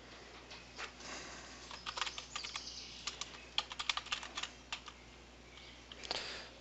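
Typing on a computer keyboard while a user role is being set up in an Ariba supplier profile: a fast, uneven run of close, crisp key clicks in short bursts with brief pauses, no voices.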